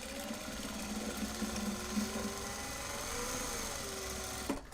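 A sewing machine winds a bobbin with a steady, continuous mechanical whir that holds an even pitch for several seconds, close by and alone, then stops with a brief clatter at the end.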